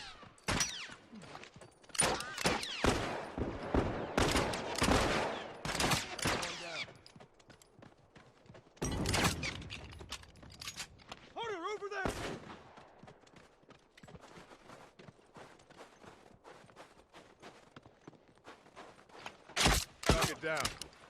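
Gunfire from online multiplayer in The Last of Us comes in sharp bursts, some loud and clustered early, others scattered and fainter, with a heavy final volley; game sounds and some speech fill the gaps.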